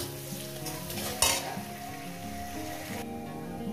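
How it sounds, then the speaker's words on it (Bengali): Onions frying in a pan for a stuffed snake gourd gravy, a dense continuous sizzle with a brief louder burst of spatter partway through, close and steady, with no voices. "এটাকে মিনিমাম 2-3 মিনিট ধরে পেঁয়াজটাকে আমি ভেজে নেব"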